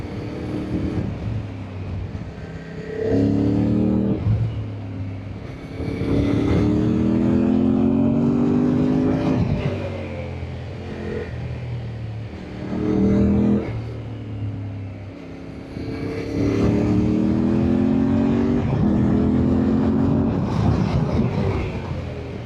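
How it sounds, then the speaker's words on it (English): A Yamaha Tenere motorcycle loaded with kit rides along a road in Spain or Portugal, its engine droning loud and close with repeated rising revs between gear changes and steady wind noise throughout. "very happy with my cool looking Yamaha Tenere, loaded up with kit, riding into the unknown."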